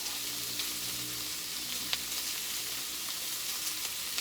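Paella ingredients toast in a pan on a stove, giving a steady, close hiss of sizzling and frying with a few faint clicks and scrapes and no talking.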